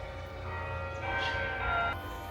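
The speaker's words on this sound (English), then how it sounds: "Bells are playing right now." The Bok Tower carillon rings out in Polk County, Florida, a sustained wash of tuned bells playing a melody with long ringing overtones, heard from nearby outdoors with no talking.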